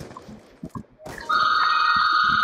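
A phone rings loudly close by during a Black Ops 2 gaming session, a sustained bright electronic tone that starts suddenly about halfway through and holds steadily, following a few faint clicks and thumps.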